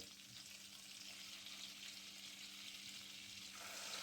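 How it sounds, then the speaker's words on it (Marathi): Cumin seeds sizzle steadily in hot butter for a Hotel Style Matar Paneer, a continuous bright frying hiss that swells slightly louder near the end, with no voices. "तेल बटर गरम झाल्यानंतर अर्धा चमचा जिरे घातले"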